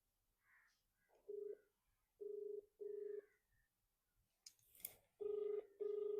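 A telephone rings indoors in short, steady tone bursts, first in a pair, then another single ring and a further pair, set against a quiet room with faint background noise.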